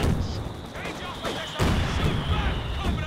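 Heavy mortar fire in Company of Heroes 2, with a dense, continuous rumble of booming impacts and artillery blasts and a sharper thump partway through, heard under someone commentator talking.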